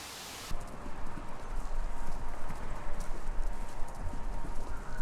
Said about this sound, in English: Sounds like horses. Horses running.